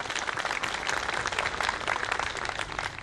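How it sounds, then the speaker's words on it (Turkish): Dense, fairly faint applause from a neighbourhood crowd at an ambulance donation ceremony for Mehmet continues evenly for a few seconds, with no voices standing out. "kocaman bir Mehmet amcamıza alkış istiyorum sizden"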